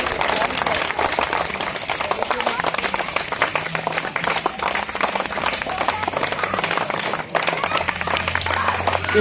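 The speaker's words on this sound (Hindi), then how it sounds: "ताली बजाते रहिए, ताली में कंजूसी मत कीजिए," Audience at a school prize ceremony during a Holi special clapping steadily and densely throughout, a continuous crowd applause with faint voices mixed in.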